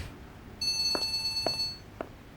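A telephone rings indoors, an electronic tone sounding with three short bright pulses about half a second apart, fairly faint against a quiet room.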